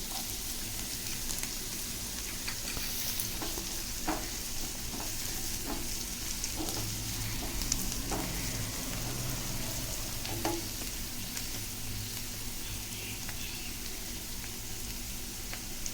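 Egg fried rice with carrot is stir-fried in a pan over a high flame, giving a steady, close sizzle with scattered scraping and stirring clicks throughout and no voices.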